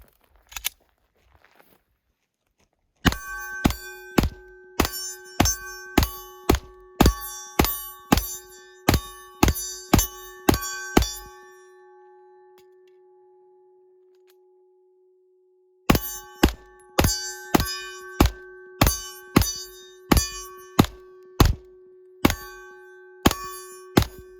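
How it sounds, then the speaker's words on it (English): Rapid pistol shots from a PSA Dagger Compact firing M1152 rounds, two loud strings of sharp cracks with ringing steel-target clangs, a long ring-out pause between the strings, no talk. "Today we'll be shooting 30 rounds of M1152."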